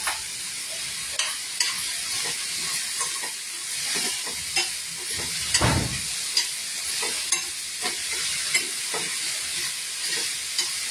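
Onions sizzle in a hot pan while being stirred, with repeated scraping strokes and one louder clatter midway, heard up close with no speech.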